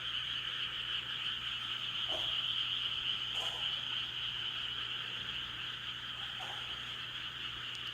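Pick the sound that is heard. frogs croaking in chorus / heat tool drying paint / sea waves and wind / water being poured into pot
frogs croaking in chorus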